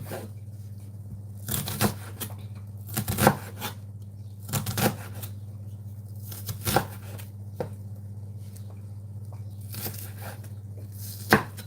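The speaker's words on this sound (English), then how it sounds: "So I'm just cutting up as much onion as I can." Onions chopped with a knife on a cutting board at home, a lot of them for a Jamaican mackerel run-down, in irregular bursts of sharp crisp blade strikes separated by pauses, close up over a steady low hum.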